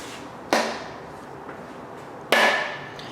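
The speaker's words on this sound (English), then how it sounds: "take a plastic hammer and hit the left side of the crankshaft and the right side of the crankshaft 1 time each to set our thrust bearing" A plastic hammer strikes an LS 5.3L LM7 V8 crankshaft, once on each side to set the thrust bearing, giving two sharp, close knocks about two seconds apart, each with a short ringing tail.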